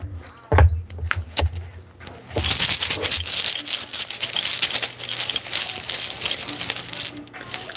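Dice tumbling and clattering across a hard surface during a spiritual reading, with a sharp knock near the start followed by several seconds of dense rattling and clicking, close and fairly loud.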